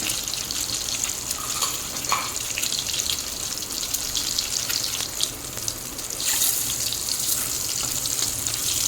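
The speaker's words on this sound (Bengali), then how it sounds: "এখন তেল গরম হয়ে গেছে এবার ডিমগুলোকে ভেজে নেব" Constant sizzling of eggs frying in hot oil, close and steady, with brief louder crackles.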